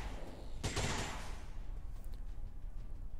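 Enemy suppression fire in XCOM 2, a single loud burst of automatic gunfire lasting under a second, then a fading echo over low background ambience.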